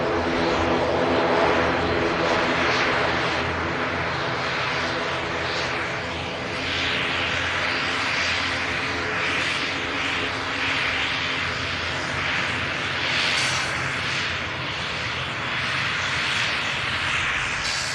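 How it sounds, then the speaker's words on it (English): Aer Lingus ATR 72 turboprop, operated by Emerald Airlines UK, arriving from Belfast City Airport: a loud, steady propeller and engine roar that stays sustained and broad throughout, swelling slightly at the start with no talk. "This aircraft coming in from Belfast City Airport. Aer Lingus ATR 72."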